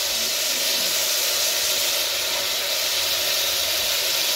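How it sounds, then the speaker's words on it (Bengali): Chopped onions frying in a pan of hot oil with garlic tempering give off a steady, loud, unbroken sizzle that holds its level from start to finish, with no voices. "আর পেঁয়াজ কটাও দিয়ে দিচ্ছি"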